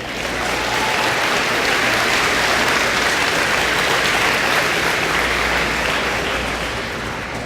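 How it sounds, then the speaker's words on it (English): A large school audience at an opening day speech breaks into loud, sustained applause, a dense even roar of clapping lasting several seconds before easing slightly. "Yeah, we can clap for that."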